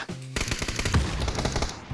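Rapid automatic gunfire from a player shooting while prone in the video game PUBG, a dense, loud burst of repeated shots that continues steadily for nearly two seconds after a brief quieter lead-in.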